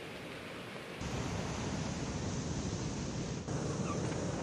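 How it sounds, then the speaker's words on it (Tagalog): Strong waves pound a shoreline in Ilocos Sur during heavy rain, a dense steady roar of surf and rainfall that grows louder after the first second, with no voices. "mataas at malakas ang alon sa mga baybayin"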